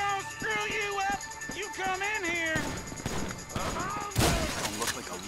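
Gunfire in the GTA V video game during a first-person farm mission, sharp shattering bursts and crashes arriving in the second half, with music and talk underneath.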